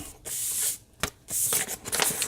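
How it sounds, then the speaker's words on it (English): A sheet of paper is folded like a letter, with crisp crackling rustles and creases in short bursts and a sharp crease snap, close and alone. "fold it like a regular letter"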